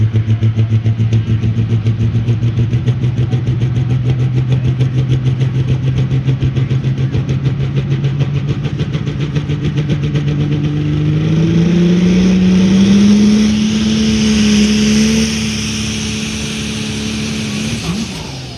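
A racing truck engine at a drag strip during a run-what-you-brung event idles with a loud, rapid pulsing rumble and then revs up, its pitch climbing steadily before easing off, close and dominant throughout.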